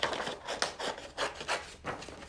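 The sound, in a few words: scissors cutting out paper arms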